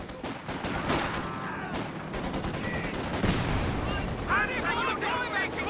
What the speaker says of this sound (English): Counter grenade toss forces another retreat